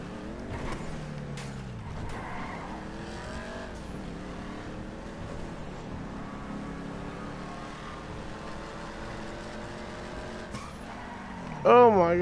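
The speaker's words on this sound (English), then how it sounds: "I'm about to race another GTR." Nissan GTR cars race in GTA 5 Online on PS4, engines droning and revving through rising and falling gear pitches, with a brief sharp squeal near the end and a voice talking over the racing throughout.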